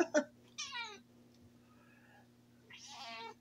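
A house cat meows for attention indoors, three close, clear meows spread over a few seconds, the last one drawn out, with quiet room hum between them.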